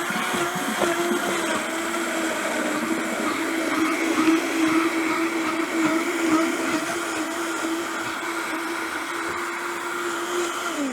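Vitamix blender running at full speed, a loud continuous whining motor drone with a steady pitched hum and churning texture, close and alone for the whole stretch.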